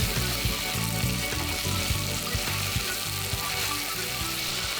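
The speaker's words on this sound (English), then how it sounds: "Add the chopped onion. Mix that around some more." Chopped onion fries in a tablespoon of vegetable oil in a soup pot, a continuous close sizzle with soft periodic clinks and scrapes of stirring throughout.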